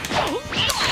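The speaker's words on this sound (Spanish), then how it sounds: "Toma, puñetazo." A punch in the video game Dragon Ball Xenoverse 2 lands as a sharp whooshing whip-like impact, followed by a second swishing strike, loud and close within under a second.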